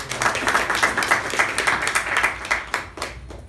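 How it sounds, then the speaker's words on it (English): A room of Toastmasters meeting attendees applauds, many hands in a dense, lively patter at close range that thins into a few scattered claps near the end, with no talking. "Give her a big round of applause"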